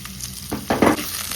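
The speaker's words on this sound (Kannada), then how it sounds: "ಅದಾದಮೇಲೆ ಕಟ್ಟಾಗಿರುವಂಥ ಈರುಳ್ಳಿ ಮತ್ತು ಹಸಿಮೆಣ್ಸಿನ್ಕಾಯಿ ಹಾಕ್ಕೊಳ್ಳಿ" Chopped onion and green chili hit hot oil in a pan, giving a rising sizzle with a few short bursts of stirring, close and moderately quiet.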